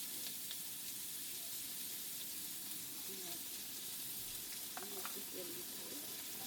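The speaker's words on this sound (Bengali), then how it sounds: "পেঁয়াজটাকে হালকা করে ভেজে নেব।" Onions sizzle in hot oil with cardamom, cinnamon and cloves for a Bengali banana-flower dish, giving a faint, steady frying hiss throughout with a few small clinks.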